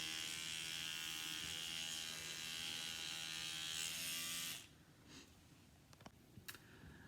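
An electric toothbrush runs with a steady buzzing hum for about four and a half seconds, then cuts off abruptly, leaving faint clicks and handling noises.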